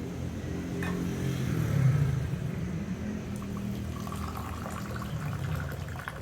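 Hot water poured over tea leaves to rinse them, a soft close splashing stream that swells briefly and then settles into a quieter trickle.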